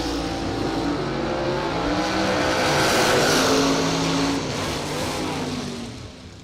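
A race car engine roars close by, its pitch climbing and shifting as it accelerates, a loud sustained motor drone that fades slightly at the end.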